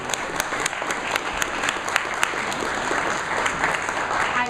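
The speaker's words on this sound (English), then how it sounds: "Big round of applause to each and every one of you." Applause from an audience at a town hall meeting, a steady wash of clapping with sharp individual claps standing out, continuing evenly throughout.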